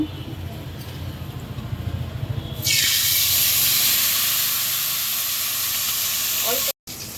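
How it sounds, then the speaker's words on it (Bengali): Tilapia marinated in ground spices and lemon is laid into hot oil over low heat, and a loud, steady sizzle bursts out and stays on. Before that there is quieter clatter and background noise, and the sound cuts out briefly near the end. "এখন মাছটা ভেজে নেব"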